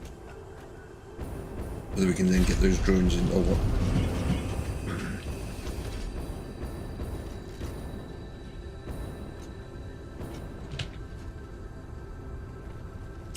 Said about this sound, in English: and that's the train coming in.